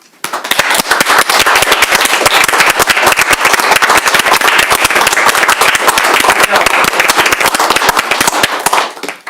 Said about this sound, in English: join me in a round of applause for Mr. Brinkley and for all those who assisted in bringing Jonathan home safely